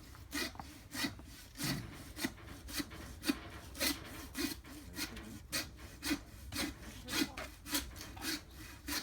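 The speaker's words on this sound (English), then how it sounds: "so yeah, get a saw. I recommend it." Hand saw cutting through a pig carcass during butchering on slaughter day, a steady rhythm of rasping back-and-forth strokes, close and fairly loud, with no talk.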